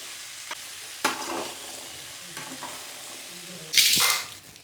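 Boiled chickpeas being tempered for sundal in a pan: a low background sizzle broken by a few sharper bursts of spitting and stirring, with a louder hissing flare near the end.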